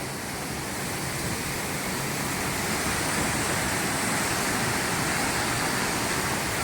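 The Domzira waterfall at Jawhar roars as a loud, unbroken wash of falling water heard from nearby, steady throughout with no voices.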